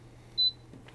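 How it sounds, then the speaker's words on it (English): Shinic infrared heater beeping once as its timer button is tapped, a short, clear, high-pitched tone over a faint low hum, followed by a soft click. "you just keep tapping the timer to add the different number of hours"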